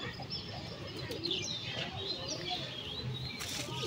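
Pigeons at a rooftop pigeon house coo softly at moderate distance, mixed with chirps and a brief flutter of wings over a low ambient murmur.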